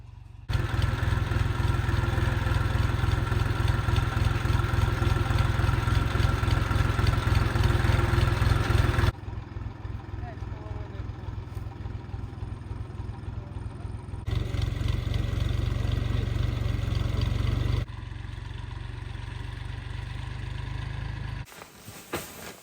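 A tractor engine, used for harvesting garlic and plowing a garden bed, runs steadily at a loud, throbbing idle, its pitch and level shifting a few times before it cuts out briefly near the end.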